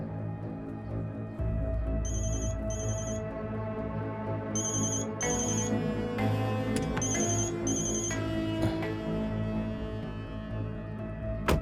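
A phone ringtone chirps in repeated bursts over a low background hum, with quiet shuffling in between rings.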